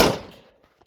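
A single sharp bang up front, loud and then decaying into a long fading tail, with a couple of faint ticks afterward.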